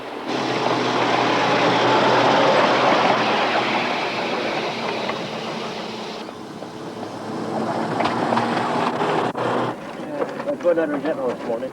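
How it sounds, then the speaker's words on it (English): A 7¼ inch gauge miniature narrow-gauge locomotive modelled on an Orenstein and Koppel loco runs with a steady mechanical rumble and faint clicking, while someone narrates over the sound throughout. "Based on an Orenstein and Koppel loco, John took just 9 months to build this light, narrow-gauge tractor"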